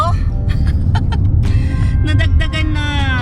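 Heavy road traffic with a steady low rumble of car and bus engines running throughout, several brief honks cutting in, and people talking over it.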